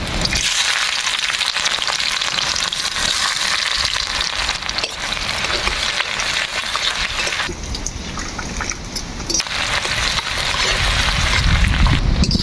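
Chopped onions fry in hot mustard oil in a village-style kitchen, giving a loud, steady crackling sizzle that carries on without a break and dips briefly before returning. No one speaks.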